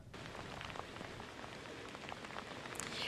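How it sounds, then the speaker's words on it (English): Steady rain pouring down on Main Street in Sunset Beach during a coastal storm flood, a dense continuous patter on surfaces with wind, heard alone without talk. "The rain is coming down, the wind, we can feel it."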